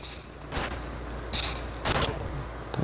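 Faint gunfire in the video game Manhunt, heard as three or four separate sharp bursts over a low, quiet background.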